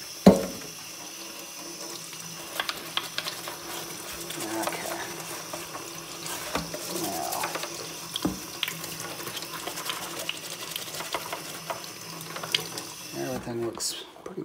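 Tap water running over a Macintosh IIci circuit board as it is rinsed, a continuous close splashing stream with intermittent clatter and handling knocks.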